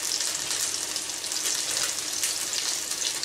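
Chicken fries in a pan with a constant, close crackling sizzle that hisses evenly throughout, with no talking.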